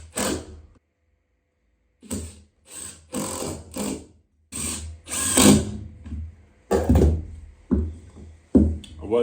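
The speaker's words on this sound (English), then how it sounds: "I'll just unscrew these and swap them side for side" A power drill drives out screws on a custom cargo trailer in repeated short whirring bursts with brief pauses between them, loud and close.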